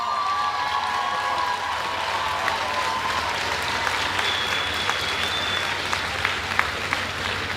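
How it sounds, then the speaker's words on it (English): Large graduation ceremony crowd applauding steadily, a dense, even wash of many hands clapping throughout, with scattered whistles and faint cheers rising above it. "wave them as we all applaud you"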